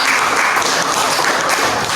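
A classroom audience claps for a student group after its presentation, a dense, steady burst of many hands that stays loud and even throughout with no talking over it.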